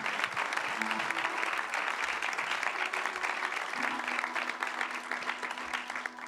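A church congregation at a dedication service claps steadily throughout, a dense and even wash of applause with faint voices underneath.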